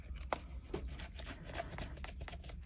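A squidgy rubs firmly across a layer on a resin tray, making a soft, continuous scraping and rubbing texture with a few small knocks, quiet and close with no voices.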